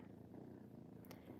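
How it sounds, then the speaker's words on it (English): A cat purring steadily and close, a continuous low rumble with no talk over it. "She's over here purring."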